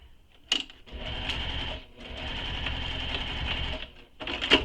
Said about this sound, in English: I'm just going to sew 2 lines of stitching